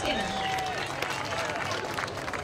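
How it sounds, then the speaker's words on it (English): A crowd applauds and cheers for village president Howard Skinner at an outdoor 50th anniversary Aquanut show, a dense, steady wash of clapping and babble throughout. "Let's give him a warm round of applause."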